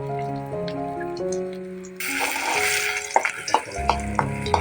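Crushed ginger dropped into lightly heated oil for a Kashmiri fried potato gravy, setting off a sudden bright sizzle with crackling pops and stirring clicks, after a few seconds of sustained tones.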